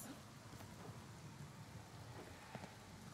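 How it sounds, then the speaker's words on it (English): Rain in the video game Ghostwire: Tokyo: a faint, steady wash of falling rain with scattered soft drops, no voices over it. "Is the rain falling upwards?"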